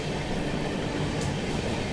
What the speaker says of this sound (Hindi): कोई तो ट्रेन भी आ रही है।